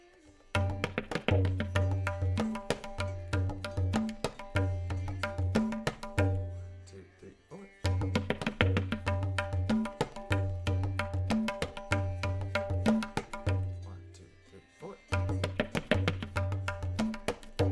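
Tabla strokes play a repeating rhythmic cycle over a looping lehera melodic accompaniment, the pattern repeating three times with short pauses between cycles.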